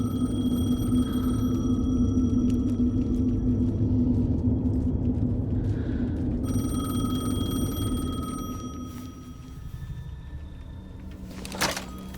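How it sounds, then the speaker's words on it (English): A payphone rings in the video game Alan Wake 2, its tones sounding over a low ambient rumble and droning hum, with a brief sharper noise near the end. "The payphone was ringing."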